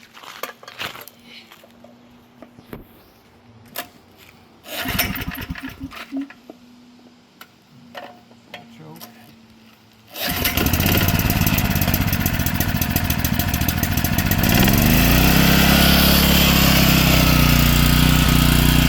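A Generac 3500XL portable generator on full choke gives a few brief pull-start attempts, then its small engine catches and runs loud and steady, droning continuously to the end.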